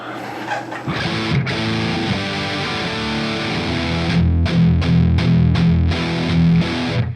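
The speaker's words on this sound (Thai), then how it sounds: "เดี๋ยวให้ลองฟังเทียบกับ IR ของแคปตัวเมซ่านะครับ" Heavily distorted electric guitar chords ring out thick and saturated through a Mesa cabinet impulse response, loud and continuous with several chopped rhythmic hits near the end.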